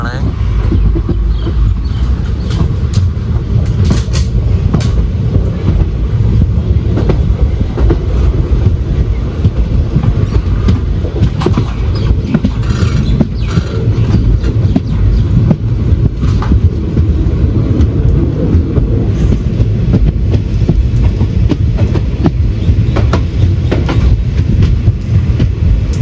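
Mysuru–Talguppa Express of South Western Railway running at speed, with a continuous loud rumble and repeated clickety-clack of wheels over rail joints, and voices heard now and then under the noise.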